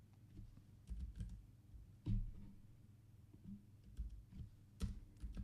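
Typing on a computer keyboard, a few soft, close key clicks in short irregular bursts against a quiet background, with no voice.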